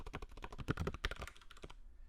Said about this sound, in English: And then I'll type in code again